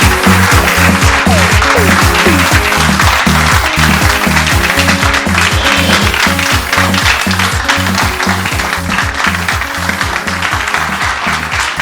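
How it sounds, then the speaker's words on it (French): A studio audience rises for a standing ovation, with loud, continuous applause running throughout over a steady rhythmic musical backing, and a voice briefly speaks. "Sous vos applaudissements, on va se lever"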